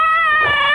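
A puppy gives one loud, close, high-pitched whimpering yip that rises into a whine, with no talk.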